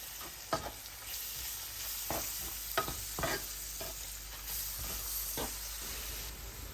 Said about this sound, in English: 1 tablespoon of cumin, and 1 tablespoon of curry powder. And mix this in well.